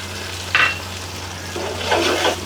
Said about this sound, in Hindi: तभी मैं इसमें डाल दूँगी ये चॉप किया हुआ लहसुन और अदरक 2 टेबल स्पून।